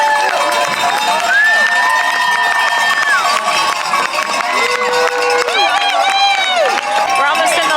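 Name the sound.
people cheering for race finishers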